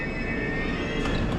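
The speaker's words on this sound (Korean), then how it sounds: "지하철이 왔습니다." A subway train arrives at a station in Caracas, a steady close rumble with a high electric whine and squealing overtones, heard alone without voices.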